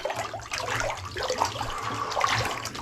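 A climbing rope is pulled by hand through a tub of water, giving continuous close sloshing and splashing with a few louder swishes over about three seconds.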